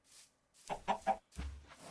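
A chicken clucks in a video game in a few quick, close bursts, followed by a lower squawk, with brief silences between.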